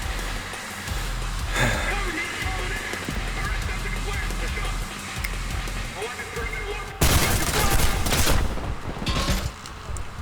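Rapid hip-fire gunfire from the first-person shooter Trepang2, loud sustained bursts of shots with chaotic combat noise throughout, intensifying into a heavier barrage near the end.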